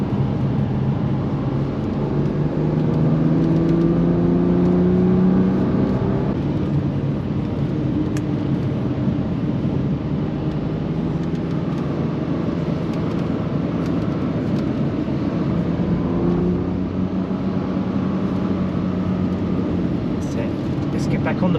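A car drives a lap of the Silverstone circuit, its engine a steady, low rumble that rises as it gets back on the power, heard under an instructor talking throughout.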